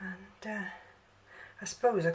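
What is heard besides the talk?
No everyday noise stands out behind the speech.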